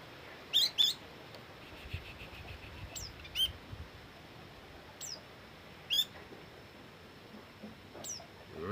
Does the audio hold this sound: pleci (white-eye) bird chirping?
yes